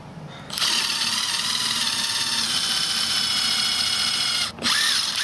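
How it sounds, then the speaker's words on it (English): A power drill fitted with a 1/8 inch bit bores screw holes for a deadbolt lock kit, whining at a steady pitch for about four seconds, pausing briefly, then spinning up again, close and loud. "The instructions for the deadbolt kit say use a 1/8 inch bit, so that's what I'm going to use."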